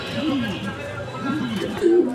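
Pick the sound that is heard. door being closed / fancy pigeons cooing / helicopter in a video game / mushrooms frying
fancy pigeons cooing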